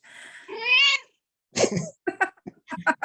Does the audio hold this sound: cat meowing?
yes